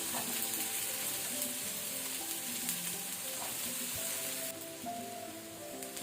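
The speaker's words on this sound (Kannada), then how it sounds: "ಎಣ್ಣೆ ಬಿಸಿ ಆದ ನಂತರ ನಾವು ಸಣ್ಣಕ್ಕೆ ತುಂಡು ಮಾಡಿ ಇಟ್ಕೊಂಡಂತ ಬೆಂಡೆಕಾಯಿಯನ್ನು ಹಾಕೋಣ" Finely chopped okra (bendekai) dropped into hot oil for a yogurt raita, giving a loud, steady hiss and sizzle close by that holds for several seconds and then eases slightly.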